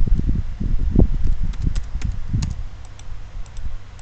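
Computer keyboard typing a folder name, a quick run of soft clicky keystrokes close up, followed by quieter scattered clicks.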